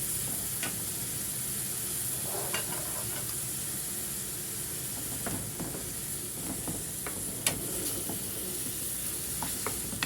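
Cabbage stirred in a pan until it wilts, made as a filling for stuffed cabbage: a steady close sizzle and hiss with soft scraping stirs scattered throughout, no voices.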